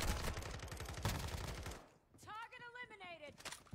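Rapid automatic gunfire in a video game shooter, a dense close burst of shots that cuts off and gives way to a voice speaking.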